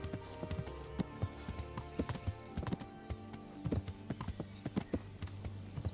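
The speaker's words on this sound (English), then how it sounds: "Just chilling out on the horse." Horse hooves clip-clop at a walking pace while riding in Kingdom Come: Deliverance, an uneven stream of hollow knocks over a soft ambient bed, with a brief whinny.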